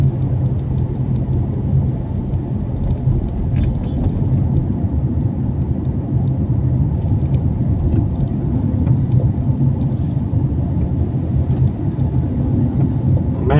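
Traffic on a road in Ortigas heard from inside a moving delivery truck, a constant low engine rumble and road drone that stays steady and close with no break.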